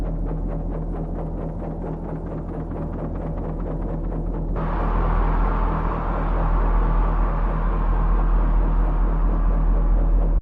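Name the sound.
rumbling sound effect in music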